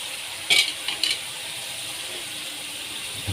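Masala for kadhi pakora roasts in a pan with a steady, soft sizzle, interrupted by two short metallic scrapes from a spoon stirring against the pan.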